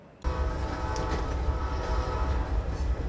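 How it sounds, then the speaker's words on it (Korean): An old Egyptian night train running from Cairo to Aswan rumbles steadily from inside the carriage, starting abruptly and holding a loud, continuous rolling drone with faint rattles and no voices. "저는 현재 이집트 야간 열차에 탑승을 해 있는데요"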